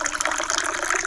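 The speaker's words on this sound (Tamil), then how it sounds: "இப்போ நம்ம இதில் தண்ணி சேர்த்தாச்சு" Water pours steadily into a pan of quail being cooked for Tamil-style quail thokku, a continuous close splashing gush with no voices.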